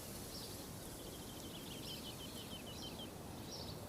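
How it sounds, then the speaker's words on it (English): Birds chirp in short, faint bursts across the British countryside, repeated calls sitting over a steady bed of insect hum and outdoor noise with no talking. "there's the birds, an open sky."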